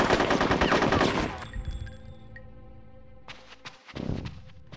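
Rapid machine-gun fire from the video game Conker's Bad Fur Day, loud and dense for over a second, then fading into quieter scattered shots and game sounds before another burst.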